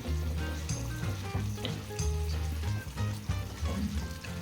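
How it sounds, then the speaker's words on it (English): Water pours into a hot pan of frying pork, setting off close, busy sizzling and crackling with small bursts and trickling splashes throughout. "I have poured two bowl of water."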